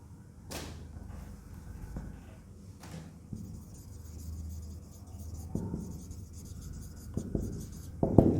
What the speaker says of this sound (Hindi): एक एग्जांपल और लिखता हूं मैं